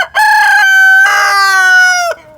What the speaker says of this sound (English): he wants to do his cock-a-doodle-doo